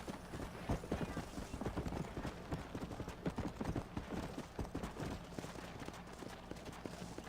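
Horse hooves clip-clop steadily and fairly close in the Western video game Red Dead Redemption, a rapid repeated rhythm of hoofbeats running through the whole stretch, with soft background game ambience.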